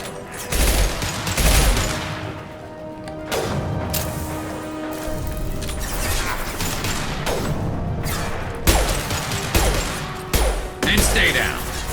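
Gunfire and impacts from a Mass Effect firefight in the Quarantine mission, with repeated bursts and heavy thuds over a steady background of combat noise, loud and close.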